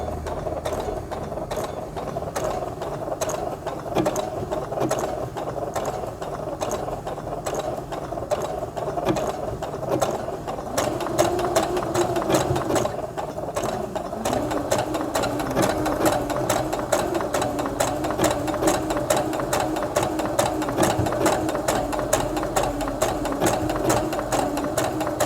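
A sewing machine stitches a blind hem with a steady, fast mechanical whir and rhythmic needle clatter, running continuously and close with no talk.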